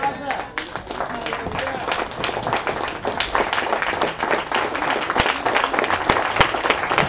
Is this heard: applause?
yes